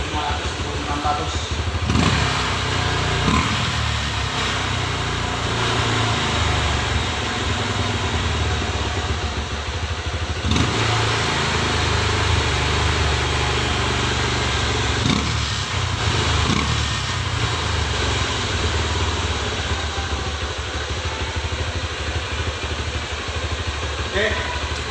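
A Honda Mega Pro New monoshock motorcycle engine running after a hard cold start, a steady low idle with intermittent blips and revs, close to the microphone, with a voice talking over it.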